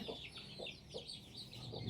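A native chicken chick being caught clucks faintly in short, evenly spaced pulses under a steady background hiss.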